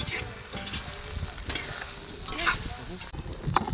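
Mexican discada of meat and Polish sausage stirred and scraped in a hot pot, with a continuous sizzle and repeated spoon scrapes and clinks, close and fairly quiet.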